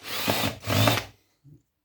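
A power drill bores into a Vodafone Wi-Fi circuit board in two close, loud whirring bursts, then goes quiet apart from a faint brief bump.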